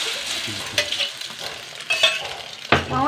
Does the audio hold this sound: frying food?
yes